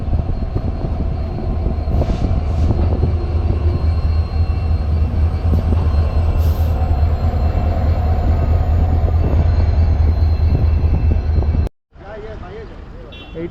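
A train arrives at Naharlagun railway station in Arunachal Pradesh, a loud, continuous low rumble and clatter of rolling wagons that runs steadily, then briefly cuts out near the end before the rumble returns.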